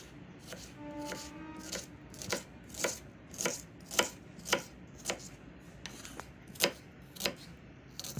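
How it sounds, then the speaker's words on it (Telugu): Onions being chopped with a knife on a board, a run of about a dozen crisp, evenly spaced cuts, close and fairly quiet, with no one speaking. "ఉల్లిపాయ కోసుకుందాం ఫ్రెండ్స్."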